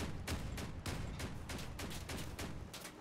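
Rapid bursts of heavy gunfire from armed battle cars in the vehicular combat game Crossout, repeated shots in a steady, loud barrage with no talking.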